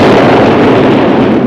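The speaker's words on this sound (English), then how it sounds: "Explosion! No doubt about it." A loud, sustained explosion blast set off by a plunger-detonated charge, with a continuous dense rumble and roar filling the whole moment close by, no voices over it.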